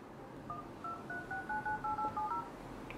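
A THL W200S smartphone sounds about ten quick keypad dialing tones through its speakerphone. The beeps come one after another in an even rhythm, faint but clear, over a quiet room.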